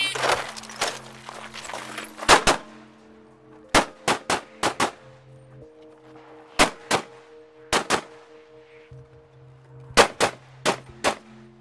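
Loud, sharp gunshots from a .38 Super open competition pistol ring out in rapid strings of two to four at an outdoor shooting match, with long gaps between strings and steady low humming underneath.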